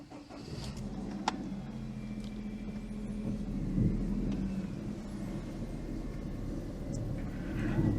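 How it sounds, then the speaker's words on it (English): A car engine idles steadily outdoors at a unit, left running to warm up while being checked for smoke, a continuous low rumble with a brief knock early on and a slight swell midway. "I'll leave her running for a bit, get a bit more heat in the engine, see if she still smokes."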